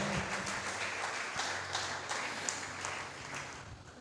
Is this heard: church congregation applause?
yes